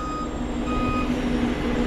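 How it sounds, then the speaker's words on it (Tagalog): A ready-mix concrete mixer truck backs up at a slab pour, its reversing alarm sounding steady, evenly spaced beeps over the low rumble of the engine, close and loud, with no talking. "Ayan, mas pangatlong truck. Bale ito, walo na lang yung laman ito. 8 cubic."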